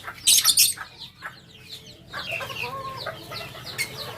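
Benjarong-colour Chabo bantam chickens cluck and chatter close by, with a sharp squawk burst near the start followed by softer repeated clucks and calls.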